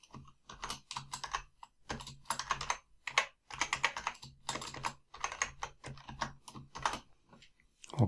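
Keys on a computer keyboard are typed in fast, close, irregular clusters with brief pauses, as a password is entered on a Mac.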